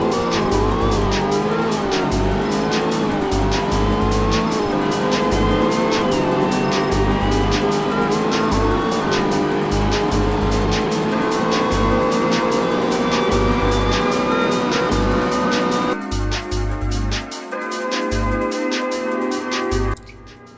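A Hennessey H700 Corvette in the Roblox game Greenville runs down an airport drag strip, its engine roaring loud and continuous with rising pitch through repeated gear shifts before easing off near the end.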